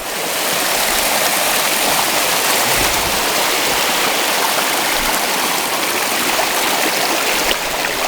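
A small creek in the Tulameen splashes over granite bedrock in a steady, loud, close rush of water that continues without a break and with no voices.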